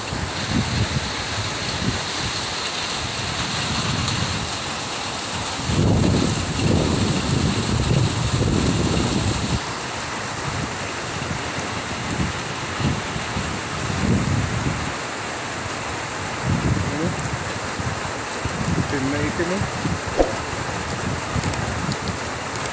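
Steady rain falls throughout a strong wind-and-rain storm, a dense hiss with low rumbling gusts of wind rising and falling; no voices.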